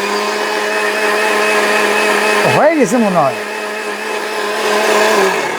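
A 1000-watt steel blender runs with a steady, loud whir, close by. Near the middle its pitch dips and wavers briefly, then it returns to a constant drone while a person speaks over it.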